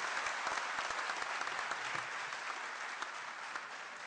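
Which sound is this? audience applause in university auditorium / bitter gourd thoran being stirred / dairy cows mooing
audience applause in university auditorium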